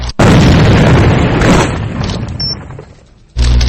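A frag grenade goes off in the video game A.V.A, one loud, close boom that rumbles and decays over a few seconds before another heavy blast hits at the end.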